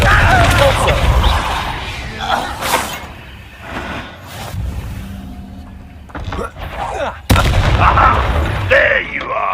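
Confringo fire spells blast in the Hogwarts Legacy video game, loud booming explosions and crackling bursts mixed with game music and effects, with a strong hit near the end and talk in the game.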